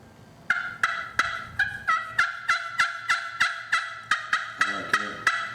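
A striker drawn across the surface of an old ceramic pot-style turkey call gives a steady, rhythmic run of loud, close yelps, about fifteen clucks and yelps in quick succession with nothing else behind them.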